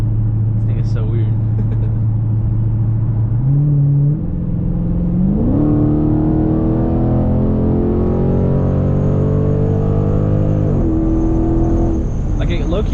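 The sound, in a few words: 2022 Widebody Dodge Charger Scatpack hard pull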